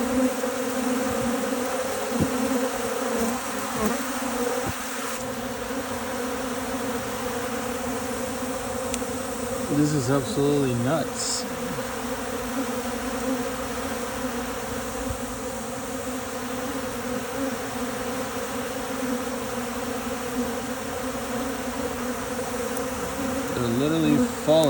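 Honey bees swarm and fight around a hive during a drought, a dense, steady buzzing that fills the whole stretch, swelling and thinning a little, with a person exclaiming briefly over it.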